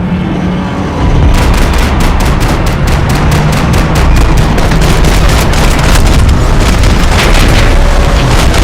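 Gunfire in the video game Max Payne 3: a loud, dense, continuous burst of rapid shots and booms after a brief lead-in, sustained and saturated for several seconds without pause.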